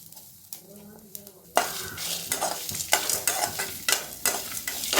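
Dry roasting of grated coconut in a pan with no oil over medium flame for a beetroot poriyal: close scraping and stirring with soft sizzle, irregular clinks of a spoon against the pan.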